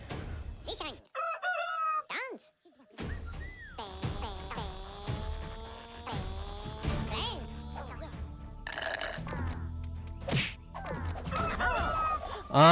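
A cartoonish rooster crow and clucking chicken sounds from the rhythm game Headbangers: Rhythm Royale play among electronic effects, loud and close, with a voice talking over parts.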